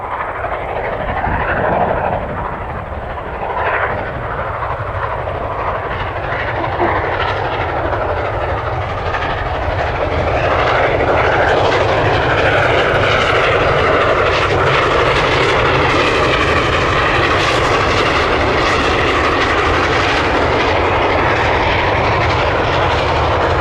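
Norfolk & Western 611 steam locomotive roaring through Virginia mountains near Craigsville, a loud, continuous rumbling chug with rising exhaust texture, sustained and close, without voices.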